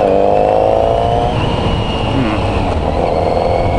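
A Kawasaki Z900RS fitted with a new K-Factory aftermarket muffler pulls away, its engine loud and close, with a rising rev as the bike accelerates and shifts, then a steady, throaty drone as it rides on.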